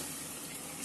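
Mutton cooking water poured from a pressure cooker into gravy makes a brief, steady rush of liquid, heard alone.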